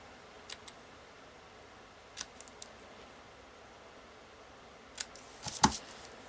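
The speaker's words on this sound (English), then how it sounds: "I'm going to cut the ribbon ends here on this one too." Scissors snip ribbon ends on a handmade Christmas card. Small, faint cuts come in a few scattered clusters, with a slightly louder group of snips at the end, in an otherwise quiet room with no talk.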